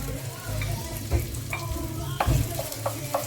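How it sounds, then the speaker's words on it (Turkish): Butter drops into rice pilaf cooking in a pot, giving a low sizzle with scattered spoon scrapes and metallic clinks against the pot, close and fairly steady throughout. "Şöyle biraz tereyağı atayım pilava."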